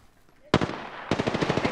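Gunfire in the Apex Legends video game: a sharp loud shot followed half a second later by a rapid burst of automatic fire, about ten quick evenly spaced rounds.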